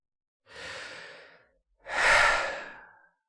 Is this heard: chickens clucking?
no